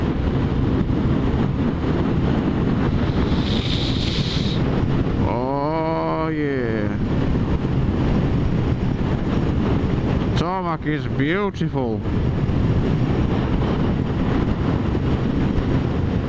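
Strong, steady wind buffeting a microphone while a motorbike rides across the Humber Bridge, a loud continuous roar with someone talking over it at intervals.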